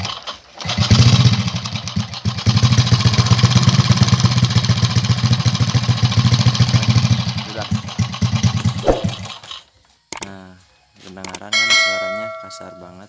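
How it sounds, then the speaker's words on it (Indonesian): Honda Supra Fit motorcycle engine running roughly, a loud, close, pulsing rattle that holds for about nine seconds before cutting off, followed by people talking. "Hari ini kita mau ngatasi motor yang suaranya kasar."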